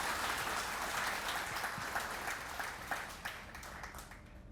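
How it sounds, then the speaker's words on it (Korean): A crowd at a cadet induction and departure ceremony for the Mokpo National Maritime University training ship Segero gives sustained applause welcoming the ship's captain, with dense clapping that slowly tapers. "큰 박수로 맞아주시기 바랍니다."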